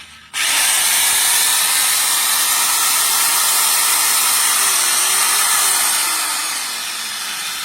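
A heavy-duty 7-inch RSK circular saw starts abruptly and runs at a steady, loud, high whine for several seconds, with no voices.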